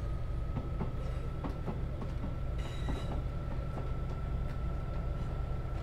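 A Class 158 diesel train in a train simulator game rumbles steadily from inside, with rhythmic wheel clicks on the rails and a faint whine over the low engine drone.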